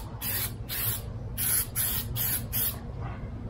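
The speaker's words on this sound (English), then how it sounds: "whatever you do not spray the top part of the seat pad because you're going to need the fabric to move a bit" Aerosol spray glue hisses onto the seat padding of a Suzuki DR650 motorcycle seat in six short, loud bursts, evenly spaced over a few seconds with brief pauses between them and a low background hum underneath.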